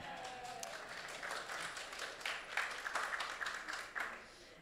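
An audience applauds during the finalist announcement of the Art and Olfaction Awards at Esxence 2018, a faint, steady patter of many hands clapping together that rises briefly before fading out.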